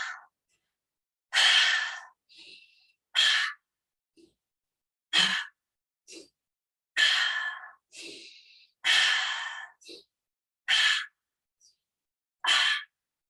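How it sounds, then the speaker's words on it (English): Deep yoga breaths, loud close exhales and sighs repeated about every two seconds with softer inhales between, alone in a quiet room. "I really do like to combine this one with a nice big breath"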